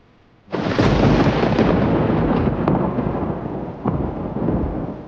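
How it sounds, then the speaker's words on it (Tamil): A drama sound effect of a sudden crash of thunder blended with a heavy tombstone rolling: a loud, sustained rumbling roar that starts abruptly and holds for several seconds, with another surge near the end. "அப்பொழுது இடி, மின்னல், கல்லறைக்கல் புரளுகின்ற சத்தம் கேட்டு காவலர்கள் மயங்கி விழுந்தனர்"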